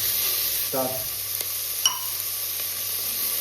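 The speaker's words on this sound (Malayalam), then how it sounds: "സവാള ഒന്ന് വഴന്നാൽ മതി" Sliced onion with curry leaves sautés in a pan for an egg curry. A soft, steady sizzle hisses throughout, with a brief utensil clink and a few light stirring scrapes.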